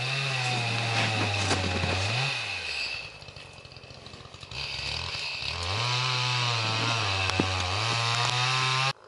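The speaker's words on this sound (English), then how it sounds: "Sorry for the noise in the background. We're cutting down trees at the same time." A chainsaw cuts down trees outdoors nearby, its engine revving high, dropping to a rough idle in the middle, then climbing again into a loud sustained whine for several seconds.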